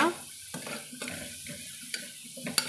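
Mint leaves sautéing with ginger garlic paste in a pan for ghee mint rice, a steady sizzle broken by repeated stirring scrapes and a couple of light utensil clinks.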